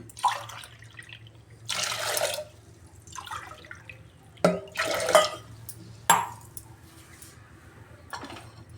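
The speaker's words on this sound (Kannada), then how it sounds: "ಇದಕ್ಕೆ 3 ಗ್ಲಾಸ್ ನೀರು ಹಾಕ್ಕೋತೀನಿ" Three glasses of water are poured one after another into a cooking pot of chana dal for holige, giving several separate splashing gushes with short quiet gaps between them.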